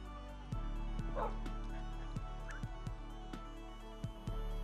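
Several dogs bark and yip in the video game Minecraft, a scatter of short, sharp barks close by over a steady background tone, with one brief whimper and no talk.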